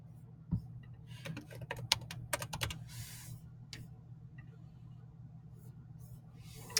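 Close computer keyboard typing in quick clustered taps, denser in the first half and then trailing off into a few scattered keystrokes, with no talking.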